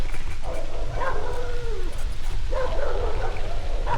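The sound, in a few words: dogs barking all around at night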